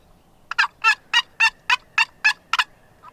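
Wild turkeys gobble in a rapid series of about nine loud, rattling bursts close by on an Oregon opening-morning spring hunt, the last call doubling at the end, with no one speaking.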